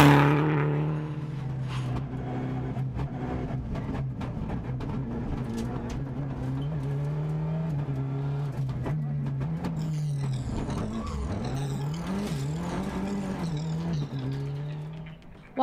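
A rally car, a Citroen, races a stage at the Galway Summer Rally near Gort. The engine drones steadily and rises and falls through gear changes, with a strong revving sweep near the end as the car passes close by.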